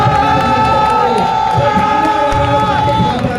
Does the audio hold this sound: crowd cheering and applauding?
yes